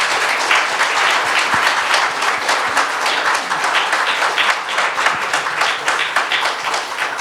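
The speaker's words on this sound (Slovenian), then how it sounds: "hvala Igor Škamperle in pa Matej Vranič, lepo prosim za en aplavz obema." Applause from a seated audience after a Slovenian film talk wraps up, steady dense clapping sustained at a constant level throughout with no speech.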